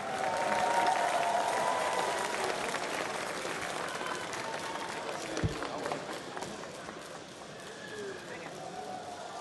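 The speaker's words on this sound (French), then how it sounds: "Je vous demande donc d'applaudir Madame Evelyn Ives" Audience applause in a busy hall during a culinary competition, a broad steady wash of clapping throughout, with a voice speaking over it and a brief thump midway.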